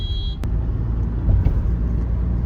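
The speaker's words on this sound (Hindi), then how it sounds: "भाई इतना तगड़ा ट्रैफिक वाला सीन हो रहा है ना यार।" Heavy afternoon road traffic in Delhi forms a dense, continuous low rumble of engines, with a brief high tone and a sharp knock early on, loud and steady throughout with no voices.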